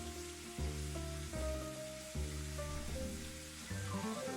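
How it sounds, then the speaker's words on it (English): Steak sizzles in a cast iron skillet with a steady, quiet frying hiss under a background of stepped musical tones. "Got a little sizzle action in there."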